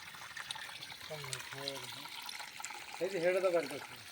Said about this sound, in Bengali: নদীর মধ্যে একটা ঝর্ণা